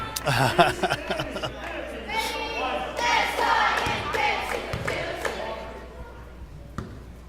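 Crowd murmur fills a gym at a girls' high school basketball game between Valley and Crystal City, with scattered thuds of bouncing balls and close voices talking over the steady din.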